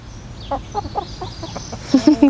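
Several hens on a homestead cluck in short bursts, soft at first and then louder and closer near the end, with light background noise.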